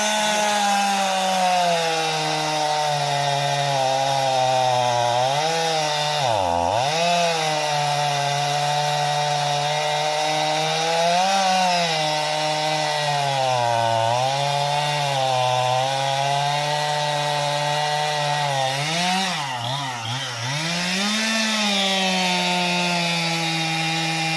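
A chainsaw runs continuously at close range while cutting trees, its engine pitch rising and dipping as it bogs into wood and revs back up, with no voices.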